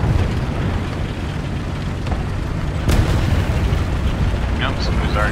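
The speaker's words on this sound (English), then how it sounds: "somebody's already shooting at us." Tank battle in War Thunder: a dense, continuous rumble of distant cannon fire and explosions, with a sharper blast cutting through partway and a brief voice near the end.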